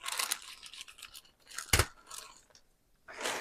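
Rose stems being cut on an angle with shears for a flower arrangement: close rustling and snipping, with one sharp crisp cut in the middle and further rustles of foliage around it.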